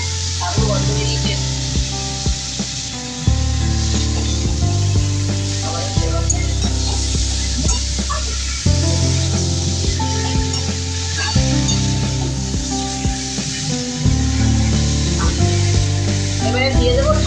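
Kochur loti (taro stolons) frying in a pan for a Bengali home-style dish, with a steady loud sizzle and repeated rhythmic scrapes and stirs of a spatula all the way through, no voices.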